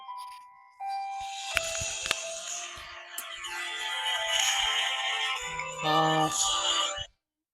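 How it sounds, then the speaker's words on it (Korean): A phone ringtone chimes repeatedly during a stock-chart talk, a bright electronic melody that keeps sounding over several seconds and stops abruptly, with faint speech around it. "아, 전화가 자꾸 들어오는데요."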